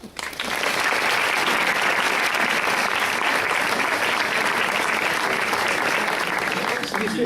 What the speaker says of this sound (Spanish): Y para mí pido este aplauso y que comience.